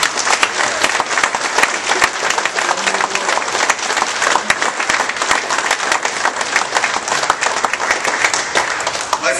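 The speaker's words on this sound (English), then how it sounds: "I think we need a big round of applause for who really made this happen." An audience at a York Barbell induction ceremony breaks into sustained, loud applause, with dense clapping filling the hall throughout.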